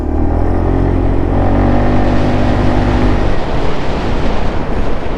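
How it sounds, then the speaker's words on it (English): Aprilia SXR 160 maxi scooter picking up speed, a steady loud engine drone with rising harmonic tones that break into rough broadband road and wind rush partway through, no voices. "the engine is very refined and very easy to easily pick up the speed"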